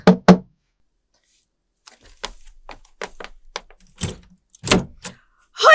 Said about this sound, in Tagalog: Hindi ka ba marunong kumatok ng mahinahon?